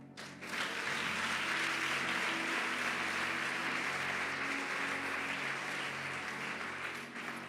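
Steady, continuous applause from a church congregation during a pastor's sermon, a dense wash of clapping that rises quickly and holds evenly at a moderate distance with little speech.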